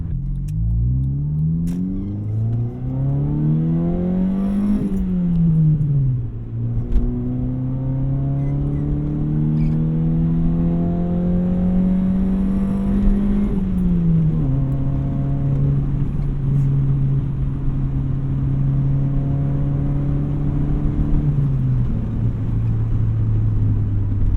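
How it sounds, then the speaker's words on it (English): A 1998 Honda Civic CX's non-VTEC engine drones and rises through the gears, its exhaust giving a low grumbly rumble that climbs in pitch, drops, and climbs again. "The exhaust, it's a little grumbly, but it doesn't really peak like a lot of performance cars do"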